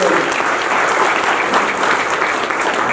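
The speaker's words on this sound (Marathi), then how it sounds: "जरा जोरदार टाळ्या" An audience applauds at an entrepreneurs' event stage, a dense, sustained burst of clapping from a large crowd, loud and even for the full stretch.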